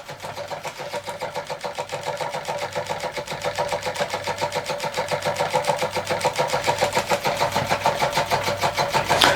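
A small electromagnet half beam engine running on 6 volts, giving a rapid, steady mechanical clatter of evenly repeating ticks that build slightly in loudness, close up and alone.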